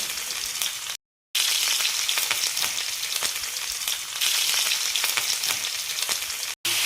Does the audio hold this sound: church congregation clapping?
no